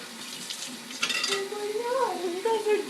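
Water poured onto a hot gingerbread branding iron gives a short, bright hissing sizzle, while several people talk and react nearby.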